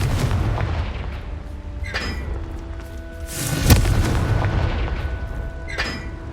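A Confringo blasting spell exploding in Hogwarts Legacy, a deep booming blast swelling mid-way over a constant rumbling game ambience, with lighter crackling impacts before and after.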